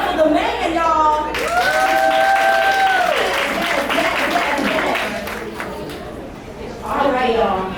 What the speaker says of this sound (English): Clap it up for the man, y'all.